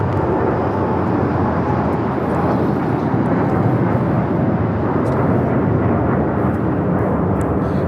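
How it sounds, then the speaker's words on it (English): Loud and sustained, a United Airlines Boeing 787-10 Dreamliner climbs away from LAX toward Tokyo Haneda, its heavy engine roar staying constant and near throughout. "This is United Airlines Flight 39 taking off to Tokyo Haneda on the 787-10 Dreamliner."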